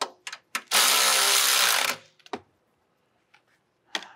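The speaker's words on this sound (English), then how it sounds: "We'll just use the electric ratchet to snug it down." An electric ratchet snugs down an 18mm bolt on the front control arm of a Mk7 VW Golf R: a short sustained whir of a bit over a second, framed by sharp clicks and clanks of the tool.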